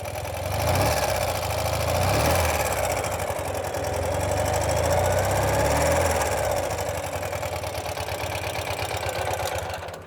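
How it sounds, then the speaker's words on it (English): A 2016 Ural cT sidecar motorcycle engine runs steadily at idle and light throttle, a close, even, pulsing mechanical thrum with a couple of gentle revs before settling back, no voices. "It's a very tight running, well-maintained engine."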